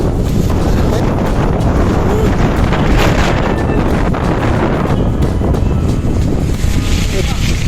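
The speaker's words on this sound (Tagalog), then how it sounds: "Ang lakas ng hangin, natatakay ka." Strong wind roars steadily across the microphone on a Batman Loop amusement ride, with heavy, constant buffeting and rumble throughout, a voice faintly present beneath it.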